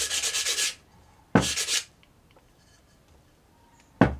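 Sandpaper of 60 grit scrubs the edges of a clay olla in three separate bursts, each a close, harsh scraping rasp lasting under a second, with quiet gaps between strokes and no talk.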